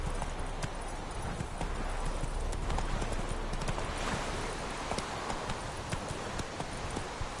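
A horse galloping in the video game The Witcher 3, steady rapid clip-clop hoofbeats on a hard surface, continuous and evenly loud over a constant background rush.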